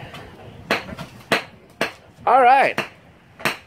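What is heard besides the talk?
hammer smashing a half onion and a potato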